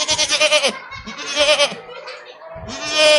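Goats bleat loudly and close by in several wavering, quavering cries that come in quick succession, with short pauses between calls.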